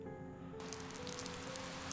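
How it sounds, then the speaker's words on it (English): Steady rain in the video game Café Enchanté, a dense even patter that starts abruptly over a faint tonal backdrop and continues at constant loudness. "Mr. Soan begins to talk amid the sound of rain."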